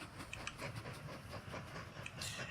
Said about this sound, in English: There's our first train.